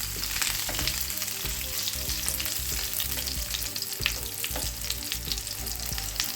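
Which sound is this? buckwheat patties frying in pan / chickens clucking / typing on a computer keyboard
buckwheat patties frying in pan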